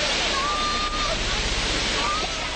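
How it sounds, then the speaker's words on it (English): Rushing floodwater from a swollen river roars steadily around a sinking car, a loud, constant broadband wash with no breaks, some faint tonal whines riding on top of it. "the roar of the rushing water"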